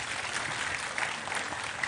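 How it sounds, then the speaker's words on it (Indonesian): Audience applause for Mbak Puan at a public talk, a steady broadband clatter of many hands clapping, moderately loud and continuous throughout without speech over it. "Sekali lagi tepuk tangan untuk Mbak Puan"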